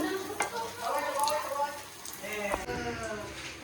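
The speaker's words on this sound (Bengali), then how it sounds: "আমি এখন বেগুনি ভাজি" Battered eggplant fritters (beguni) frying in hot oil, a steady crackling sizzle with scattered pops and stirring clatter, heard close up under a continuous hiss with a voice talking over it.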